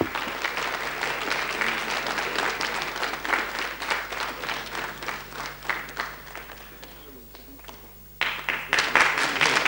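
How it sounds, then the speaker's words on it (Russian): An audience applauds at a 1996 Miss Press pageant in Saratov, giving dense, sustained clapping that thins briefly and then swells again near the end. "Ваши аплодисменты"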